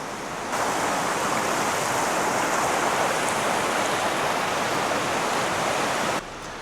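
A river rushes beside a campground along a West Virginia highway, a loud, steady broadband roar of flowing water that starts and stops abruptly.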